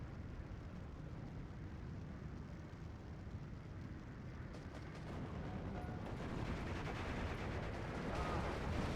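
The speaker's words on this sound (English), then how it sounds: "artillery is raining down on near the road" Distant artillery fire in the Steel Division II video game, a continuous low rumbling barrage of muffled blasts that swells slightly toward the end, with no talk.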